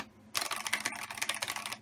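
Rapid clattering keystrokes on a ZX Spectrum +2 computer keyboard, a close, dense burst of plasticky clicks that starts abruptly after a quiet moment and runs without any speech.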